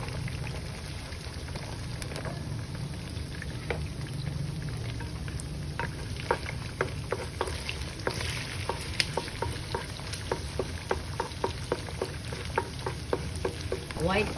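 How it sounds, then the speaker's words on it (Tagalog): Garlic sautés in a hot pan, a soft continuous sizzle broken by frequent sharp crackles and pops that grow busier toward the end, close but fairly quiet. "so now we're gonna saute the garlic"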